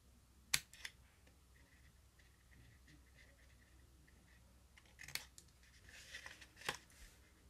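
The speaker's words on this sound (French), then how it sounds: "on va couper en biais légèrement les petits rabats" Scissors snip the small cardboard flaps of a homemade storage column at an angle, with a sharp cut near the start and a few more crisp snips later, close and fairly quiet against a silent background.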